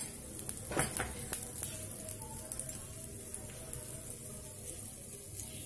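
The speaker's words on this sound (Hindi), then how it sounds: "इसके चारों तरफ थोड़ा सा तेल डालने का, इसका ऊपर भी थोड़ा सा तेल डाल।" Dosa batter sizzles with oil in a hot pan, a faint, steady crackling hiss with scattered small pops, heard alone without talk.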